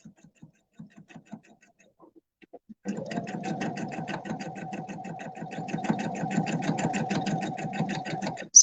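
A sewing machine with an IDT even-feed system stitches through a quilt sandwich for a table runner, starting after a few soft clicks and then running steadily with a fast, even mechanical patter for several seconds, loud and close.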